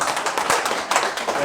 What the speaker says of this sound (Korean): 제 생각이 틀리지 않다면 박수 한번 해주세요